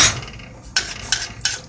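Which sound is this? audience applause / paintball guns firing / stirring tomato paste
stirring tomato paste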